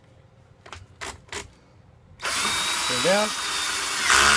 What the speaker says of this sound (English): Now, you hear that ratchet going. That means that it bottomed out